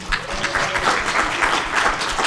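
Brisk, close audience applause for a business innovation panel at the University of Northern Colorado, many hands clapping in a dense, steady burst for a couple of seconds.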